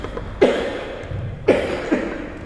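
A speaker coughs during a religious talk on tolerance: three short, close coughs spaced about a second apart, with no other speech.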